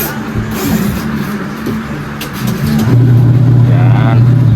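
A washing machine with a newly replaced gearbox and a leaking wash motor starts up, a low steady motor hum rising beneath busy workshop clatter while several people talk close by.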